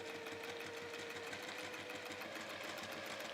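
A sewing machine stitches strips onto a half-triangle of a reversible quilt-as-you-go piece, a quick, even mechanical whirr with rapid needle ticks that runs continuously and fairly quietly.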